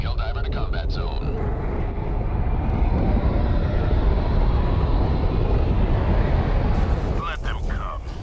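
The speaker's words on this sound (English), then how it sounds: "Allied destroyer joining squadron, deploying Helldiver to combat zone." In a video game, a Helldiver aircraft is deployed to a combat zone with a loud, sustained roar and rumbling rush close by that swells and fades over several seconds, with brief voice-like bursts at the start and end.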